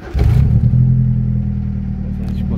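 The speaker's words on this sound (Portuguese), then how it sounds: "tá com ronco, um escape roncador" A Chevrolet Kadett engine starts and idles with a deep, loud rumbling exhaust, a steady low drone that holds close to the mic after the initial catch.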